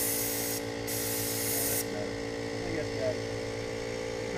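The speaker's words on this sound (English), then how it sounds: "And our air compressor is pretty loud too." A loud air compressor running steadily outdoors while an RV is spray painted in strong wind, a constant engine-like drone layered with bursts of hissing spray.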